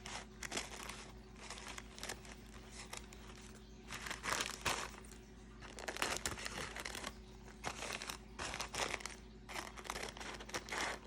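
A coffee filter sheet is folded in two and cut into a square, giving soft crinkling and papery snipping in irregular bursts, close and quiet, with no voices.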